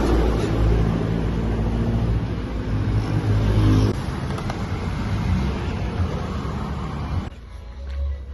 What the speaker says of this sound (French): c'est, paraît-il, un moteur basique sans électronique